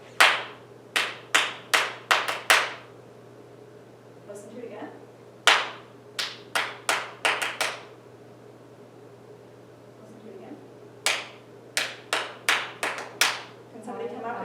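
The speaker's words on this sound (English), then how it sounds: "see if you can come up with what I clapped" Sharp hand claps beaten out as a short rhythm pattern in a music lesson, several groups of quick near claps separated by pauses, with a voice speaking briefly between the groups.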